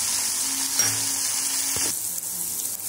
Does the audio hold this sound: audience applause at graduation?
no